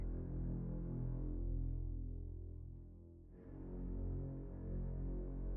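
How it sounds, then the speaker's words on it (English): A mysterious, steady low hum drones on alone, dipping in loudness for a moment near the middle before swelling back. "It calls again, humming."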